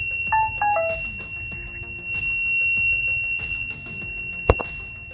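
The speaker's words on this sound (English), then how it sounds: "it detected fire and it sounded a buzzer" A short electronic beep pattern sounds at the start, followed by a steady high-pitched fire alarm buzzer tone that continues under faint background noise.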